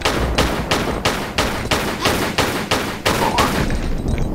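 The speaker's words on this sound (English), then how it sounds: "when I'm not being shot at" Gunfire in Tomb Raider: The Last Revelation at the Sphinx, a rhythmic series of about nine loud, evenly spaced shots, close and sharp, ending abruptly.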